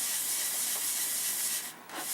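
Fine 600-grit sandpaper rubbed steadily over the metal of a Stanley No. 6 hand plane, giving a continuous close, loud abrasive hiss with a brief dip near the end.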